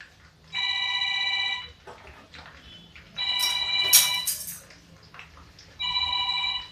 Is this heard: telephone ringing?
yes